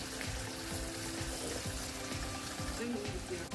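Duck meat frying in a pan with salt, turmeric and spices in an Indian duck curry, a steady loud sizzle with soft stirring scrapes throughout.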